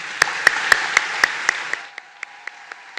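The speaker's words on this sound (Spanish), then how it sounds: "Démosle la bienvenida con un fuerte aplauso." Evenly spaced, rhythmic clapping at a stage event welcoming Michelle Obama, sharp individual claps about four per second that fade from louder to quieter over three seconds, with no talking.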